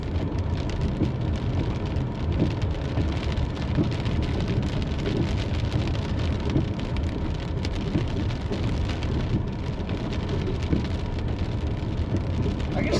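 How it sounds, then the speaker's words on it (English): Heavy rain falls in Colorado as a dense, continuous roar of drops that stays steady and loud throughout, with no voices heard. "Dude, it gets to rain hard here in Colorado."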